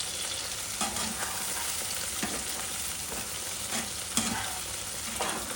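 Spicy brinjal masala with ghee and a pinch of garam masala being stirred in a pan, a steady broadband sizzle broken by a handful of louder scraping strokes of the spoon, close and alone with no voices.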